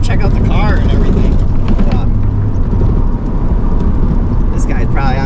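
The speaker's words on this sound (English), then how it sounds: "You heard the burnout." A 1986 Chevy Caprice Super Stepside does a burnout on the road, giving a loud, rough roar of engine and spinning tires that runs the whole way with a short dip near the middle, while people talk over it.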